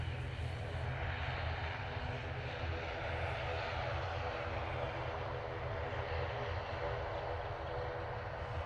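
An easyJet airliner departs Manchester Airport bound for Hamburg, its jet engines producing a steady, broad roar that holds at constant loudness throughout, heard from a fair distance with no talk over it.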